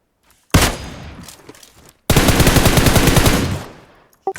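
Loud automatic gunfire in a shooter video game: a short burst, a brief pause, then a longer sustained rapid volley, close and dominant with no talk.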